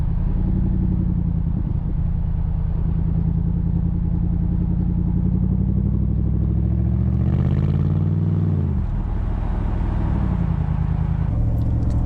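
Morgan Aero 8 SuperSports with a 4.8 litre BMW V8 accelerating, a loud, deep rumbling engine note that rises in pitch, drops briefly at a gear change, then climbs again, heard from inside the car with no talking.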